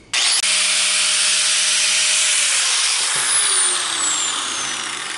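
A power tool grinds down the sharp edges of an aluminum propeller blade, a loud continuous whine that drops in pitch partway through as the load changes, with no talk.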